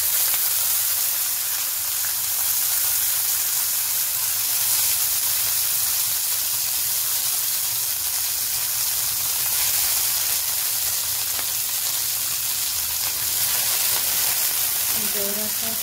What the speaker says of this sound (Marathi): जरा तव्यावर तेल टाकून थोडीशी गवार जी आहे परतून घ्यायची